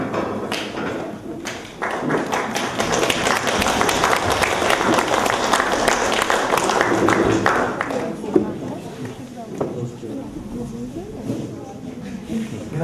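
Applause from the audience at a youth chess tournament award ceremony, dense clapping that swells and holds for several seconds, then thins into scattered claps while a voice speaks over it.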